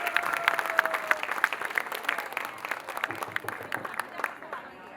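A crowd at a Holi Milan gathering in Patna claps enthusiastically, a burst of close, crisp applause that gradually thins and fades toward the end, with a voice speaking briefly at the start.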